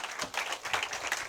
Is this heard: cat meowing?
no